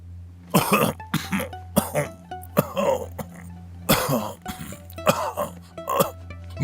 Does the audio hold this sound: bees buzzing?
no